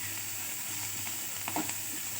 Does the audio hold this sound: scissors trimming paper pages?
no